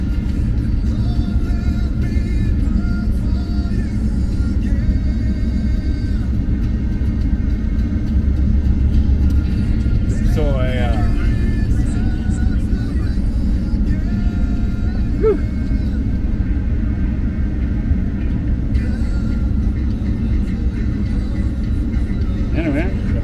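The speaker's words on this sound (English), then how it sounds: "Got this traffic all coming here." Steady road traffic rolls past on a highway between Chisago and Lindstrom, Minnesota, a continuous low rumble of cars throughout with a brief bird chirp partway through and talk over it.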